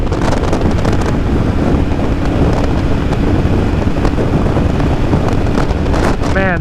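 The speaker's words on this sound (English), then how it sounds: "there's nothing better than the feeling of riding a motorcycle like this" Loud, steady wind buffeting roars across the microphone on a moving 1982 Yamaha Virago motorcycle, a dense rushing noise with constant rumbling gusts from start to finish and no clear voice.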